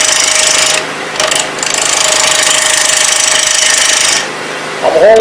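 A woodturning gouge cuts into a spinning wooden blank on a lathe, a loud, harsh rasping drone that holds steady, breaks briefly, then resumes before cutting off near the end.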